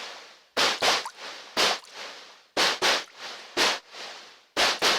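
Lo-fi snare drum hits with a watery, plopping character, struck in a steady repeating pattern of paired bursts, loud and alone with no voices.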